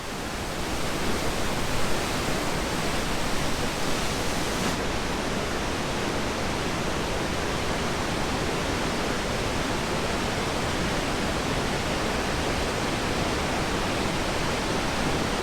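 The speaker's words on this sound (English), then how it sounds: "this spectacular waterfall is the highest continuous waterfall in" A high waterfall in Wales roars steadily and loudly, a dense unbroken rush of falling water with no other sounds.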